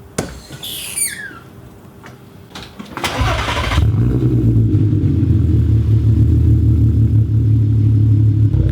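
VW Passat R36 with a newly fitted straight-pipe exhaust cranks and fires up, then settles into a loud, steady, lumpy idle rumble close to the tailpipe, with no talking.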